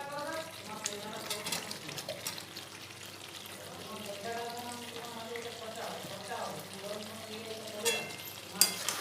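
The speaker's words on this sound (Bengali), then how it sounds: "এবার আলুর সাথেও চিকেনটা একটু কষিয়ে নেব" Chicken and fried potatoes are stir-fried in an oily spiced masala for Gondhoraj chicken, a steady sizzle with spatula scrapes throughout and a few sharper clinks near the end, over faint background tones.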